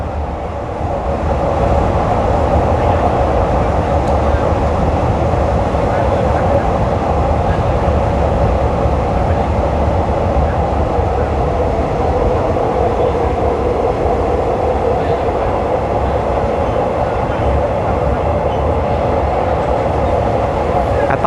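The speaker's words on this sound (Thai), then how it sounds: "สวนกับรถไฟฟ้าสายสีแดงไป แล้ว ครับ" Steady loud rumble and rush from inside a moving train in Bangkok heading from Don Mueang toward Krung Thep Aphiwat Central Terminal, passing a Red Line electric train, with continuous wheel and track noise.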